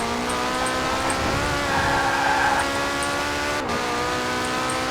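A Porsche 918 engine driving in Forza Horizon 4, a loud continuous tone holding steady with a brief shift and dip near the end, heard alone.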